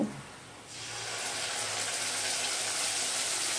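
Water is poured from a mixing bowl into a frying spice-paste gravy, starting with a brief clatter, then a loud steady gush and sizzle that holds to the end.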